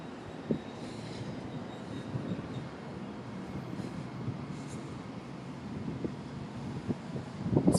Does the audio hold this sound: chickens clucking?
no